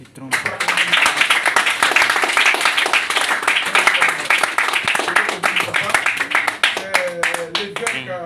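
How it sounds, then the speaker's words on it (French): A church congregation applauds and cheers their bishop with sustained, dense clapping and voices throughout, loud and close, with a brief rise near the end. "il va se tenir debout et on va l'acclamer par la grâce du Seigneur"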